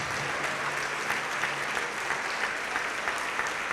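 A church congregation claps together in sustained, even applause, filling the space at moderate loudness with no one speaking.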